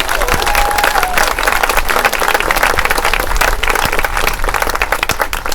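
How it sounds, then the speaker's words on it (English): An outdoor crowd at a monument dedication ceremony gives sustained applause, dense and steady clapping from many hands at fairly close range throughout, with a brief tone heard near the start. "let's give Jimmy a hand for it"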